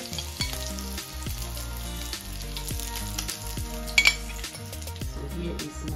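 Ham sizzles in a frying pan at breakfast, a steady close crackle of frying that runs under continuous background music, with a couple of brief metallic clinks near the end.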